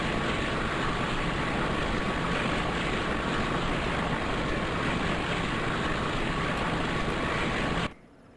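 A Pennsylvania Railroad Alco RS 11 diesel locomotive runs with a loud, steady engine drone that holds without change, then cuts off abruptly near the end.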